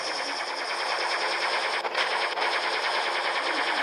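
Rapid automatic gunfire from a video game, a loud, dense, continuous burst of machine-gun fire that hammers on for the whole stretch with no voices.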